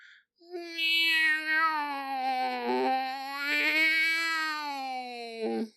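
A voice imitates a baby and a cat at once, producing one long, wavering, mewling wail with a few short breaks, loud and close.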